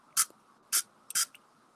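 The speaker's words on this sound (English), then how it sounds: "It's a spray." Spray bottle of a supplement spritzes three short bursts, each a crisp hiss about a quarter second long, with a tiny extra puff at the end, close and clear in a quiet room.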